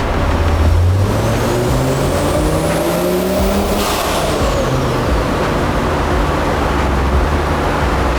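Tuned turbocharged Audi S4 engine making about 240 hp, running hard under load with a loud, steady roar as its pitch sweeps up and back down, heard close throughout, no talk.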